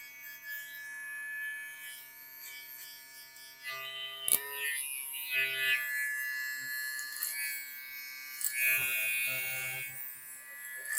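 Electric hair clippers buzz steadily close by while tapering a haircut with an open blade, a constant whine with brief changes in pitch as the blade moves through the hair.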